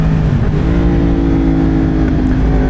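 A Yamaha MT-10 motorcycle engine runs loud and close with a steady, throaty drone that holds an even pitch throughout, with no voices.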